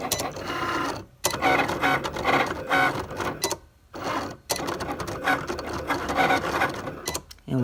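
Cricut Explore Air 2 cutting heat transfer vinyl: a loud, busy mechanical whir and buzz of the moving carriage and blade, broken by two brief pauses as the head changes direction, with no talking.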